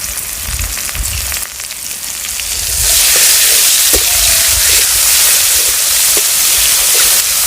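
Garlic paste hits hot oil and breaks into a loud, steady sizzle that swells after a quieter start and holds as a dense hiss throughout, with no talking.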